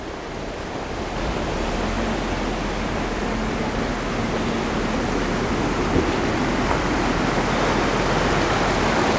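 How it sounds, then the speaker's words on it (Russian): The Berezovaya river rushes through the Berezovaya gorge in Kislovodsk, a loud, steady broadband roar of flowing water that stays close and constant with no voices. "Река Березовая, ущелье Березовое."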